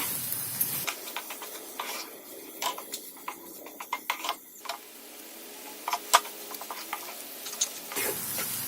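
Onion-garlic masala with salt roasting in oil in a pan, a soft crackling sizzle with scattered ticks and stirring scrapes throughout, fairly quiet and close, with no talk.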